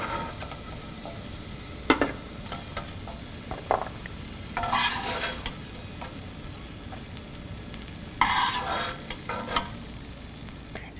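Cashews and raisins frying in ghee in a pan, a soft continuous sizzle with scattered stirring scrapes and a few louder bursts of crackling, close and without talk.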